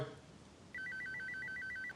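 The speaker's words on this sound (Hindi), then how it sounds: "कंप्यूटर जी माइकल को फोन किया जाए।" A telephone ringing tone warbles in a fast, steady trill for over a second, placed as a call from a Kaun Banega Crorepati comedy spoof; it starts abruptly after a short quiet stretch.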